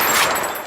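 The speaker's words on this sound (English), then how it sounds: "Gunshots." A brief, loud, harsh crackling burst of gunfire, a split second of dense noise that fades quickly, with no voices.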